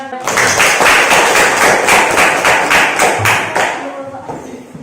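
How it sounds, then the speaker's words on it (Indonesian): A classroom group claps together after a student presentation, loud and close, with steady rhythmic claps that fade out toward the end and voices mixed in. "Tepuk tangan dulu untuk kita semuanya"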